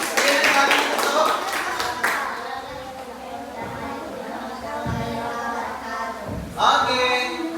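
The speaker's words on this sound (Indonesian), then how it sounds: "tepuk semangat untuk kelompok mobil Tesla" A classroom group of students claps in a brief burst of applause for the Tesla car team, the clapping loudest at the start and returning briefly near the end amid chatter and a teacher's voice.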